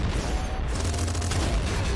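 Hyper Rifle bursts in the video game Nuclear Throne, a dense, steady run of loud, rapid gunfire that carries through the whole stretch with no talking.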